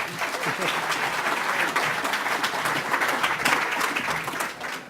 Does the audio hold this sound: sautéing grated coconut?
no